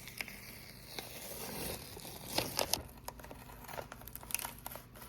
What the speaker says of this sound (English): I can't resist taking off this tape.